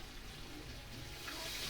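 A cup of water poured into a cooking pot while making pakbet with crab paste, a loud continuous rushing splash that swells slightly toward the end, with no talking.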